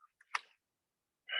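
A single quick sneeze, sharp and close, followed after a pause by a brief burst of another voice.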